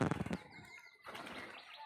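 Pigeons being fed crowd all around, a burst of close wing flapping opening loud and settling into a softer fluttering rustle.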